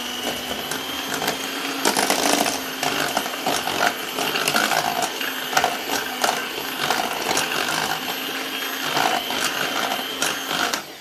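An electric mixer beating cake batter with added milk, a continuous loud whirring motor drone with a steady mechanical buzz and slight fluctuations, running alone for the whole stretch.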